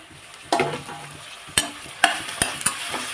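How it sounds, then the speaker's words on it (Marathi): Cabbage fries in a pan with onion and capsicum, a soft sizzle under several sharp spatula scrapes and clinks as it is stirred, close by and with no talk. "कोबीला दोन मिनटं फ्राय होऊ देते मी"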